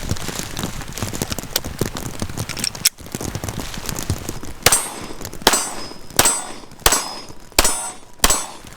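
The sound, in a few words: shooting Rock Island STK100 9mm pistol at steel targets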